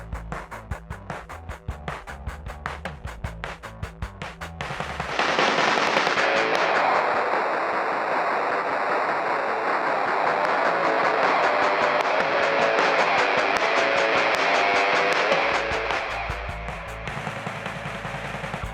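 A bitcrusher plugin effect softened with its silky dial, applied to a rhythmic track: crunchy, clipped beats give way midway to a dense, noisy, gritty wash that holds for about ten seconds before the beat returns, with no talking.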